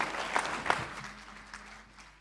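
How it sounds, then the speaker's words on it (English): Audience applause at a national public-service excellence awards ceremony, a moderate burst of clapping from a hall that thins and fades over about two seconds, with no talking over it. "A round of applause, ladies and gentlemen."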